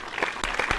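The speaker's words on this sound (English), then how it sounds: "Round of applause." Canned applause fired from a button on an effects screen, a short burst of clapping and cheering at moderate level lasting under a second.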